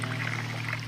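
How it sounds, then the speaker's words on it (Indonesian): Water from a kitchen sink faucet suddenly runs on its own, a steady pouring rush that is close and fairly loud, with a low hum beneath it and no voices. "tiba-tiba air di keran wastafel menyala dengan sendirinya"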